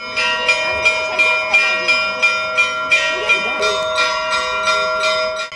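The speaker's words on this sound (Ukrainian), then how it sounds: "Сріблясті переливи церковних дзвонів сповістили мешканцям Куйбишевського мікрорайону про початок великого свята престольного" Church bells ring in a steady, repeating peal, their bright overlapping tones pulsing several times a second and sustaining throughout, fairly close and loud.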